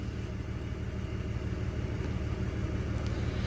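A third-generation Cummins diesel engine idles steadily at 1200 RPM with a cooling fault, giving a continuous low rumble close by with no talk.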